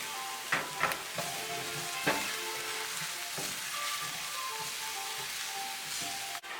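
Garlic sautés in a pan until golden for noodles, a steady close sizzle with a few sharp utensil clinks and stirring scrapes over the frying hiss, no talking.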